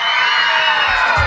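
A crowd of boys yelling and whooping in unison at an outdoor patronal fiesta stage show, a loud, continuous mass shout close by, with a few low thumps near the end.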